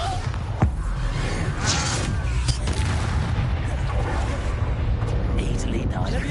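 A Bombarda blasting spell goes off in a wizard video game, a loud booming explosion with sharp impacts layered over a continuous rumbling game soundscape.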